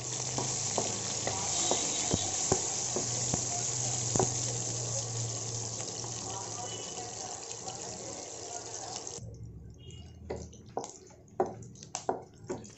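Garlic and green chili sizzle steadily as they fry in a pan for an egg and capsicum curry; the sizzle then cuts off, leaving scattered clinks and knocks.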